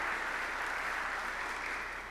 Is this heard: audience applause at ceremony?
yes